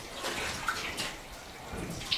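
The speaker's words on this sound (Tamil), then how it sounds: "இப்போ கோல்டு வாட்டர் வருதுங்க, ஏன்னா அங்கே இருக்கிற தண்ணி வரணும் இல்லைங்களா." Cold water runs from a tap fitted with a Mr.shot 2.0 instant running water heater, a steady close hiss and splash that continues without a break.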